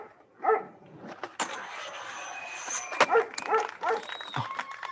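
A dog barks several times in short, sharp bursts spread across a few seconds, mid-distance and fairly loud, with whines and yips between the barks over a faint background hum.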